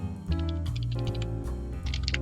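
A terminal command typed on a computer keyboard in Ubuntu 21.10, with a quick run of close key clicks and short pauses over a steady low hum.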